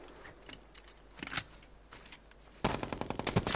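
Gunfire in the video game Medal of Honor Warfighter: a few scattered shots early on, then a dense, loud burst of rapid automatic fire in the last second.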